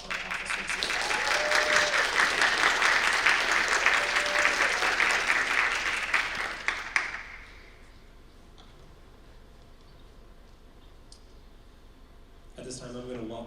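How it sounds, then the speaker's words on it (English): An audience at a Chillicothe High School Tri-M music honor society induction applauds its student officers, loud sustained clapping for about seven seconds that fades into a quiet room before a voice begins to speak. "Can we get some applause for our officers?"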